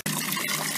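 Bath product liquid poured into a filling bath, a sudden close, steady gushing splash of water and liquid that starts abruptly and runs continuously.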